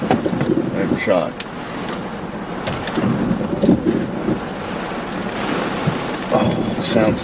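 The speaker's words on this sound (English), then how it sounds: "it sounds so nice to hear that rain hitting the car" Rain drums on a car roof during a Southern thunderstorm while storm chasing, a steady close patter with gusty rumble underneath, people talking inside the vehicle over it.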